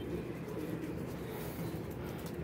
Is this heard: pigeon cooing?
yes